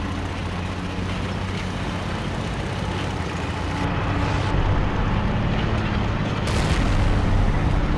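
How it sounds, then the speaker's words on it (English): Artillery shells land near a Nashorn tank destroyer in World of Tanks: a steady loud engine rumble, then heavy booming impacts around the midpoint and again toward the end. "The artillery is already shooting at me, and so nearly got me."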